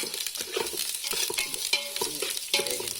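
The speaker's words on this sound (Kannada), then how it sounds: "ನೀರುಳ್ಳಿ ಕೆಂಪಾನ ಮಟ್ಟ ಒಂಚೂರು ಕೈ ಆಡೋದು" Onions frying in a pan while being stirred for a Tulunadu kenda adde recipe: a steady close sizzle with repeated scraping stir strokes and light clinks, no voices.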